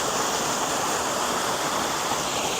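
Waterfall at Fairy Glen, Appley Bridge, a steady broadband rush of falling water heard close and continuous with no voices.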